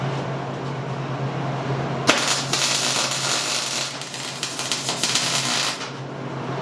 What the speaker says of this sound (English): You're welding that whole thing on there, honey.